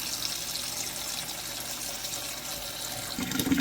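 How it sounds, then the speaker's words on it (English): Tap water pours steadily into an All-American pressure canner with a constant close splashing rush, rising slightly in pitch and intensity at the end. "we are going to fill our pressure canner up"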